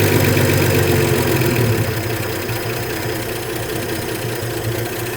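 A Ford F100 pickup with a swapped-in engine idles steadily up close, starting rough and loud, then settling into a smoother, quieter rumble after about two seconds, with no talking.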